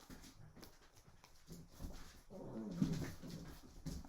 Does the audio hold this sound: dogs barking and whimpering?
yes